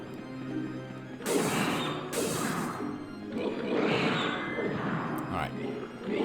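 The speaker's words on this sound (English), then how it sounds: "change to the club, because this is the only way to destroy these spiked stained glass" In the MediEvil video game, a club smashes spiked stained glass: loud crashing, shattering bursts repeat several times over a few seconds, with a voice talking underneath.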